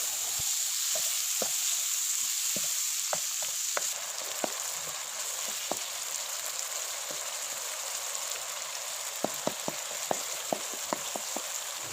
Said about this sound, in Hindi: 4 से 5 अदद बारीक कटी हुई हरी मिर्चें शामिल करेंगे और मज़ीद 1 से 2 मिनट के लिए अच्छी तरह पका लेंगे।